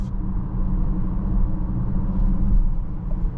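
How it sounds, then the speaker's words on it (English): A low, steady engine and exhaust rumble heard inside the cabin of a 2024 BMW X6 40i SUV, muffled and continuous, with faint road noise. "Not as much exhaust noises pumping into the cabin with the iconic sounds off."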